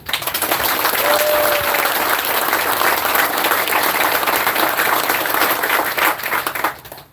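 Audience applause for the veterans of an Army squadron at its inactivation ceremony, a dense, steady round of clapping from a large crowd lasting about seven seconds before tapering off.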